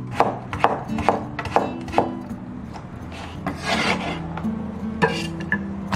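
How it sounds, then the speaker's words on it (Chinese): A knife cuts half a carrot into thick slices and then long strips on a board, giving close, irregular thunks and scraping chops. "我们准备半根胡萝卜，我们先切厚片，然后再给它切成长条"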